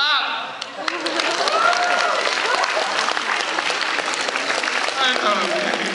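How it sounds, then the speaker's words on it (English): School assembly crowd in a high school dome clapping, loud sustained applause with cheers and voices mixed throughout, starting after a brief pause. "A free t-shirt clap."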